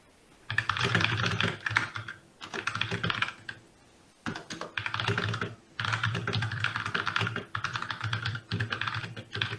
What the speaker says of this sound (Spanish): Los teclados mecánicos.